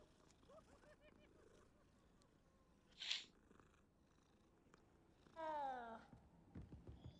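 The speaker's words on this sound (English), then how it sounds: "It was the kitty." A cat in Hogwarts Legacy gives a soft, low purr through most of the stretch, then a single clear meow comes near the middle and a longer, drawn-out meow follows near the end, all fairly quiet and close.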